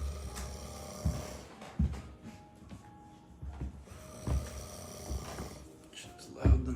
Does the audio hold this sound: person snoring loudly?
yes